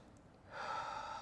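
A slow, breathy exhale during a Pilates stretch swells in after a quiet start and holds as a soft, close airy rush until the end.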